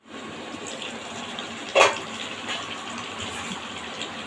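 Water poured from a rinsed fish-washing plate into a pot of boal fish curry with data bori and potato, a soft continuous splash with one brief louder gush.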